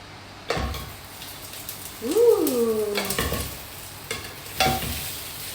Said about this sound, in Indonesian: Pertama-tama langsung aja kita masukin ayamnya, kita tumis ayamnya